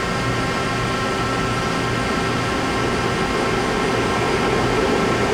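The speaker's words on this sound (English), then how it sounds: "NL-2500SY, new 2010, MSX 850, Roman numeral 3 control, main spindle, running at 1000 RPM." A Mori Seiki NL-2500SY CNC turning center from 2010 with MSX-850 III control runs its main spindle at 1000 RPM, giving a steady, dense machine hum and whir with no breaks.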